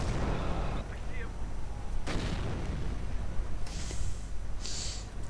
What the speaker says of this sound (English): firing away with their machine guns and main guns